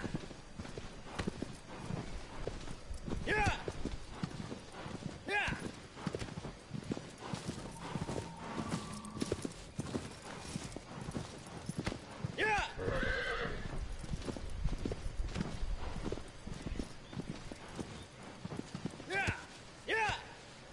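A horse in Shadow of the Colossus gallops with steady clip-clop hoofbeats and lets out several sharp whinnies, while someone talks over the game sounds.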